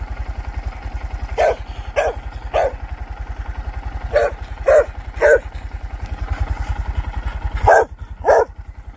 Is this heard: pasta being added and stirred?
no